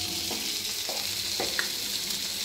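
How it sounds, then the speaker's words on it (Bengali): Sarputi fish frying on low heat, a soft, continuous sizzle close by with a few faint scrapes or stirring knocks and no voices. "একটু কম জালে মাছ ভাজা করলে"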